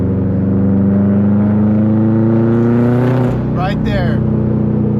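A Subaru STI with a Tomei exhaust revs loud and raspy nearby, its pitch climbing steadily, then dipping briefly as it shifts and pulls again, with a voice talking over it.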